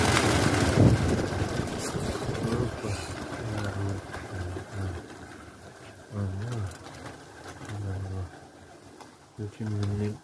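Pigeons coo in repeated soft, throaty bursts close by, the rhythmic calls coming in pulses between pauses while someone speaks over them.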